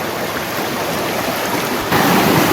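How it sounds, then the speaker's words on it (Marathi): A swollen village stream rushes at night, a loud, dense broadband roar that swells slightly stronger near the end, with no voices. "पर्याला पाणी जबरदस्त आहे"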